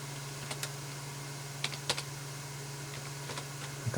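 Sparse keystrokes on a computer keyboard during a Windows 98 SE install on a Compaq Deskpro Pentium 3, a few isolated taps spread over several seconds over a steady low electrical hum, with a louder burst at the end.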